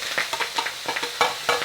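Breakfast frying in a pan in a countryside kitchen, close sizzling with a quick run of stirring scrapes and utensil clatter.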